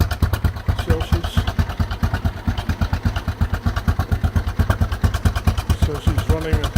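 A 1991 Yamaha XTZ 660 (3YF) single-cylinder motorcycle with a Marving exhaust idles cold at freezing temperature, a steady, close, loud thumping pulse that speeds up briefly near the end with a light blip of revs.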